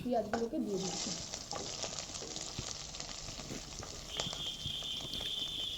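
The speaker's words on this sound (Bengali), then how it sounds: "পেঁয়াজগুলোকে সুন্দর করে নেড়ে নিচ্ছি।" Onions sizzle and crackle steadily in a hot wok, with scraping stirs throughout and a brief clatter at the start.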